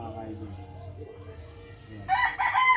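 A rooster on a backyard poultry farm crows loudly and close by near the end, after a stretch of low background murmur and talk.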